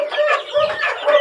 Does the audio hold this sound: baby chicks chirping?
yes